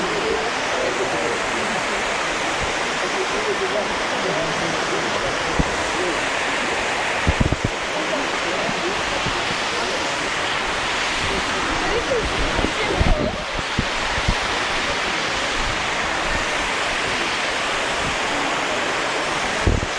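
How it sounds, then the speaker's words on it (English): Waterfalls at a hidden scenic spot near Sydney, Australia, roar as steady broadband rushing water, loud and continuous for the whole stretch with a few brief splashing bursts and no talking. "There's some waterfalls right here."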